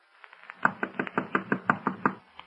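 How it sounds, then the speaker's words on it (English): A series of sharp knocks at the door of a room, about a dozen quick raps in a steady rhythm, close and fairly loud, with nothing else heard. "the knock came at the door of our room"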